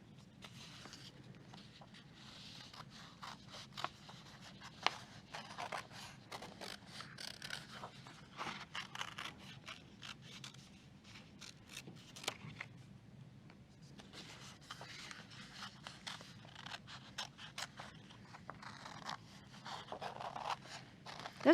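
Scissors snip and scrape through paper while paper sunflower shapes are cut out, the quiet crisp cuts coming in irregular bursts for about twenty seconds with no talking.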